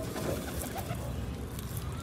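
A white pigeon coos in low, soft murmurs over a steady low background hum, fairly near and continuous with no talking.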